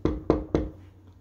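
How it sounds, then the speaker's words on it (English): Three firm knocks on a house door in a quick, even rhythm, close and clear, followed by quiet. "I can knock, I guess."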